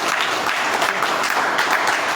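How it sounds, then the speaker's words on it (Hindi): An audience applauds loudly for Nandu Bhaiya at a naturopathy experience session, dense steady clapping close and continuous throughout, no voices. "एक बार जोरदार ताली बजाइए नंदू भैया के लिए"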